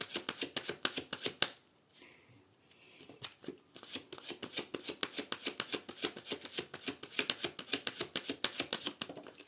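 A deck of tarot cards being cut and shuffled by hand, giving a fast, steady run of close, crisp card riffles and flicks with a short quieter break near the start.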